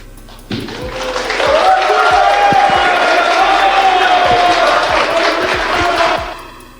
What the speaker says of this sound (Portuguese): com aplausos